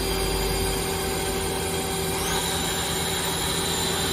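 Live tooling spins on a 2007 Mazak Quick Turn Nexus 200 MSY-II CNC lathe, a steady machine hum and whine that shifts pitch partway through, close and continuous with no voices.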